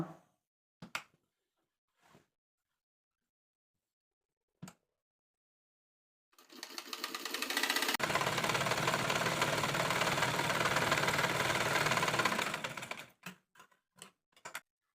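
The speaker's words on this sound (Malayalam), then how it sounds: "ഇനി ഇവിടെ കുത്തി നിർത്തി തിരിച്ചൊരു വട്ടം കൂടി സ്റ്റിച്ച് ചെയ്ത് കൊടുക്കുകയാണ് കേട്ടോ." A sewing machine stitching a frock starts with a few isolated clicks and taps, then runs in a fast, steady mechanical whir for about six seconds, stops, and ends with more scattered clicks.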